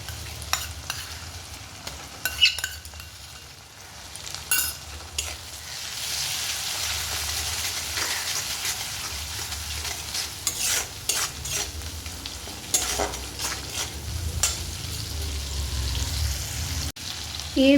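Tomato softened in hot oil sizzles steadily in a pan as ginger, garlic, cumin and green chilli paste is stirred in for a fish and potato curry, with a spoon scraping and clinking intermittently against the pan.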